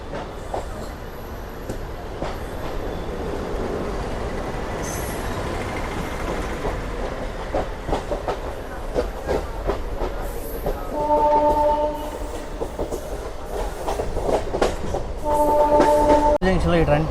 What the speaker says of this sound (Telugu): నెల్లూరు నుంచి అయితే మన ట్రైన్ అయితే బయలుదేరిపోయింది